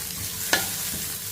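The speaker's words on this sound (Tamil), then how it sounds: "வதக்கிடுவோம்." Chopped onion and a medium carrot sauté in a pan, a steady soft sizzle with a single sharp scrape of a spoon stirring midway, close up and with no talking.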